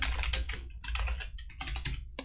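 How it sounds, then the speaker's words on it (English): Rapid clicking of computer keyboard keys in quick, irregular bursts with short pauses between them, close and clear, with no talking. "I'm typing out the name for it"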